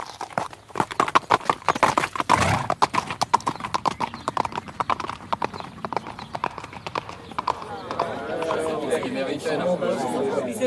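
A horse's hooves clip-clop in a steady, prominent rhythm, close and crisp, while a voice talks over them; toward the end the hoofbeats give way to a softer, continuous murmur.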